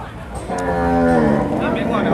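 Cattle moo loudly at a busy cattle market, one long, drawn-out low call from a nearby animal over steady crowd and market noise.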